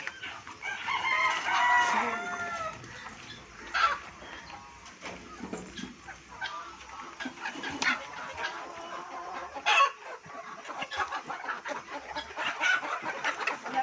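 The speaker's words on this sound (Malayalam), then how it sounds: "എൻ്റെ കോഴികൾ ആർത്തിയോടുകൂടി കഴിക്കണമെന്ന് കാണാം" Several chickens cluck and murmur close by as they eat jackfruit biryani, with a rooster crowing now and then amid scattered pecking and rustling.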